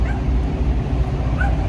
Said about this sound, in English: listen to this dog bark to make my dog bark